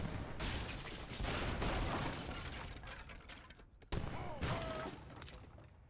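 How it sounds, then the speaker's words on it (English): Heavy cannons fire in an Age of Empires battle, a loud barrage of booming blasts with crashing, mechanical clatter, one sharp report standing out near the end amid the din. "You just got to love the sound of the heavy cannons."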